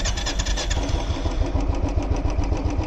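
A Royal Enfield motorcycle engine fires up from its electric start button, cranking briefly and then settling into a steady, thumping, rhythmic idle close by, with no talk over it.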